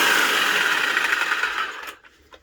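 An OZITO cordless reciprocating saw runs at maximum speed, a loud, harsh motor whine close by that holds steady for about two seconds before cutting off and winding down.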